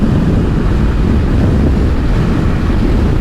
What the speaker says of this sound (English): you can feel this reasonably warm wind blowing around